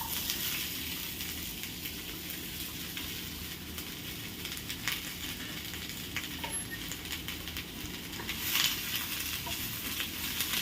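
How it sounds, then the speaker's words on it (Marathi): Chopped onions fry in a big spoonful of oil, a steady close crackling sizzle with small pops and a brief louder spatter near the end, and no voices. "एक मोठा चमचा तेल, आणि याच्यामध्ये टाकणार आहोत आपण कापलेले कांदे"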